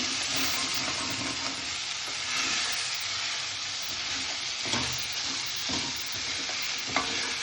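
Tomatoes stirred into a frying mushroom and pea masala, a steady broadband sizzle with soft scraping strokes of the spoon throughout, fairly close and continuous, with no talking.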